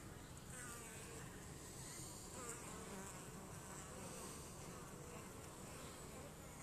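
A dense, steady drone of many bees buzzing around a commercial hive, continuous and soft, with no talking over it.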